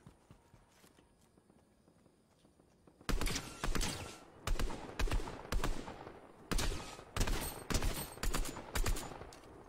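Gunfire from a team-based shooting video game starts abruptly after a quiet lead-in, then comes in repeated sharp bursts, each a cluster of quick shots followed by a brief pause.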